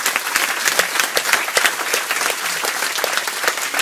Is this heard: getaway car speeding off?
no